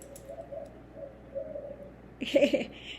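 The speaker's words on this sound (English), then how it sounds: "I love the sound of the doves." A dove coos outdoors in a few soft, repeated low notes, moderately distant, followed by a brief louder burst of nearby bird calls near the end.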